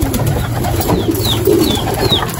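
A female pigeon coos softly nearby in a short low burble, with faint chirps and background hum around it.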